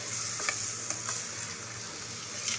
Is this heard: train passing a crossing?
no